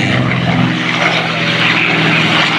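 A P-51C Mustang propeller fighter flies at a military air show, a loud, steady droning engine roar with broad rumbling noise, continuous and close throughout.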